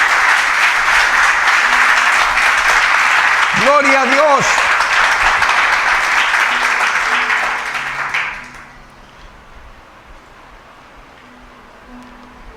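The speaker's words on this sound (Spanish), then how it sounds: "denle un fuerte aplauso a Dios" Church congregation giving God a loud round of applause during a sermon, sustained dense clapping for about eight seconds with a preacher's brief shout partway through, then fading to a quiet hall.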